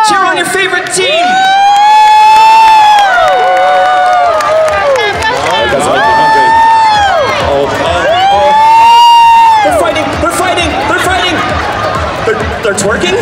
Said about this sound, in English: Cheer on your favorite team!